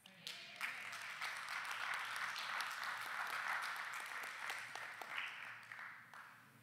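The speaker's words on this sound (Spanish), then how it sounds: "¿cuántos de ustedes pueden aplaudir o cuando escuchan esto?" A church congregation breaks into sustained applause, a dense, steady wash of many hands clapping that swells quickly, holds for several seconds, then tapers off. It sounds fairly distant and soft.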